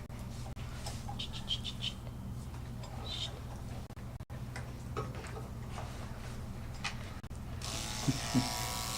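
Electric clippers run on a Westie dog's body with a steady low buzzing hum throughout, faint ticking and scraping over it, and a brief soft voice near the end.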